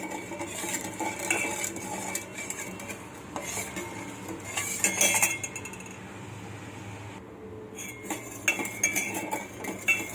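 A metal spoon clinks and scrapes against a dish while sugar is added to milk for rasmalai, with repeated bright chinks and stirring rattles, close and fairly loud, and no talk.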